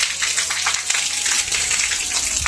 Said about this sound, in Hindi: फिलहाल बाहर पे आप लोग को बारिश की आवाज़ आ रही होगी।